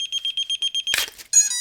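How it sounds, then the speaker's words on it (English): A drone ESC powering a Flywoo VTX cooling fan emits a fast, even string of high-pitched warning beeps, followed by a brief noisy burst and then a steady tonal whine. "it warns you with those beeps"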